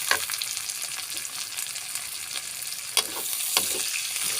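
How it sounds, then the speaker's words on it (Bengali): Onion and garlic frying in hot oil in a pan for lentil dal with bottle gourd, a steady soft sizzle with occasional sharper crackles and stirring clinks, close and alone without any voices. "রসুন সুন্দরভাবে ভাজা ভাজা হয়ে গিয়েছে।"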